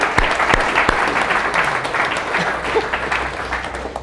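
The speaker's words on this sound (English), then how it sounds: "Let's give them a round of applause" Applause for volunteers at a tech meetup talk, a sustained room-filling round with a few sharp close claps near the start, steady and fairly loud, no speech over it.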